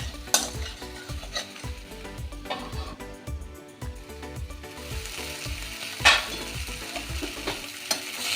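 Green tomato, beans and eggplant fry in a pan while a spatula stirs in a steady rhythm, each scrape landing over a constant close sizzle, with an occasional sharper clink of utensil on metal.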